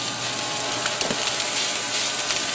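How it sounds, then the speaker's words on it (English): A whole diced yellow onion sautés in a pan, giving a steady broadband sizzle and hiss with a few faint crackles, heard on its own without talk. "we're going to put our 1 whole yellow onion diced in this pan until it's lightly sauteed"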